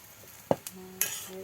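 Boiled lentils with oil stirred in a pan, giving a couple of quick spoon scrapes against the metal over a faint sizzle, short and close with no talking.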